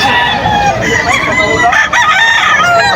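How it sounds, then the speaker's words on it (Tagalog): Roosters crow loudly and hens cluck in a crowded poultry area at a Bocaue, Bulacan market, the calls overlapping continuously and close by, with little else audible. "Ang dami pong manok dito."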